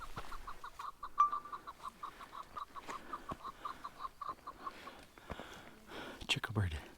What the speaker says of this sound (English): right behind the bush there is a chukar. And the reason I know he's there is because he just threw a fit at me.